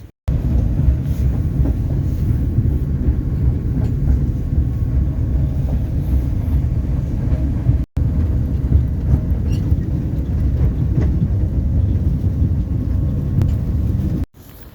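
A tram rumbles steadily along its rails, a loud, continuous low roar with faint rattling, briefly cutting out once midway.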